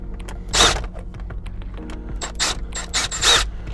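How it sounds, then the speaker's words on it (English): Mechanical clicks and creaks from a screw being backed out of a plastic interior panel on a 2019 Kia Sportage, a few brief ratcheting bursts close by with quiet pauses between, no talking. "Pull that screw out, turn the wheel to the other side."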